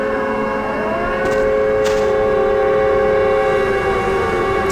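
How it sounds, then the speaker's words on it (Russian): Wailing siren marking the otherworld transition in the horror game Silent Hill: Alchemilla, a loud sustained tone that slowly bends in pitch over a steady droning ambient bed, with no voices. "Сирена, переход в потусторонний мир, как это было в первых частях, скорее всего, да?"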